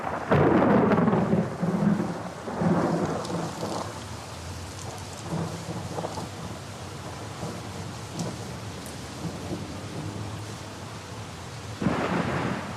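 Thunder after a lightning strike in a heavy storm, a loud deep rumble that rolls and fades over steady pouring rain, with a second rumble building near the end; no voices.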